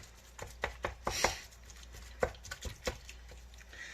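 Repeated sharp chopping taps of a utensil breaking up ground beef in a pan, irregular in rhythm, close and fairly loud, with no talking.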